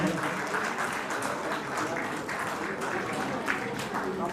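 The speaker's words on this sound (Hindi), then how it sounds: "तालियां बजती रहनी चाहिए" An audience at an office farewell and welcome ceremony keeps up steady, continuous clapping, a dense and even patter of many hands heard from a moderate distance.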